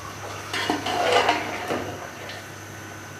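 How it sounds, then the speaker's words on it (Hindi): Mutton trotters are stirred in a pot of oil, making clattering metal scrapes and clinks near the start and middle that fade to a quieter background, with no talk. "हाँ, मैं इनको भूनती हूँ।"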